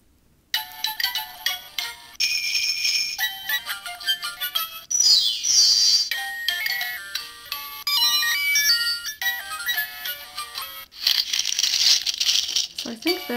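A circuit-bent electronic toy modified through a resistor, warbling and glitchy beeps, sweeping squeals and jittery tones in rapid, irregular bursts, close and fairly loud throughout.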